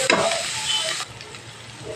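Potatoes and radish greens fry in a pan while being stirred, a loud crackling sizzle for about a second that then drops to a quieter simmer.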